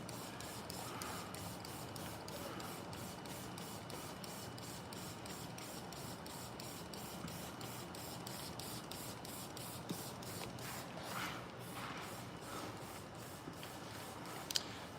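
Rapid, rhythmic hiss of a trigger sprayer misting rinseless car wash onto a vehicle, pump after pump in quick succession, deliberately oversprayed, close and steady for the whole stretch.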